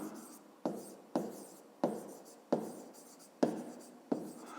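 Pen strokes scratching on paper as a box's length is written down for a fifth-grade maths exercise, several short rhythmic bursts each starting sharply and fading, close and alone.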